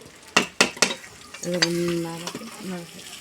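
Potatoes tip into desi chicken frying in a pan, with a few sharp knocks and clatters, then a sustained sizzle and a loud hiss, and stirring scrapes near the end.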